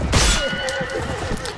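Horse neighing in Mount & Blade Warband during a battle against deserters and bandits: one sharp, loud whinny with a wavering pitch, preceded by a thud of impact.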